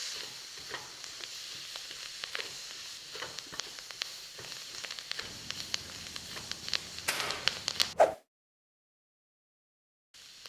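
Chinese chives and egg stir-fry in a wok with a soft, continuous sizzle and scattered scrapes and clinks of stirring, close and fairly quiet, ending abruptly in silence before a faint return.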